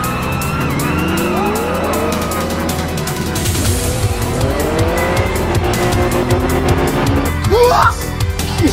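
A Nissan Sileighty tuned sports car revs at full throttle up the Usui mountain pass, a loud straining engine note climbing through gears with tyre squeal, near and dominant under faint voices.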